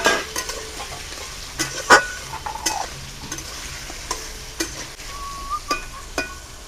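Potatoes and onion sautéing in a pan, with a soft frying hiss under repeated close scrapes and clinks of a spoon stirring, irregular and fairly loud, and no voices.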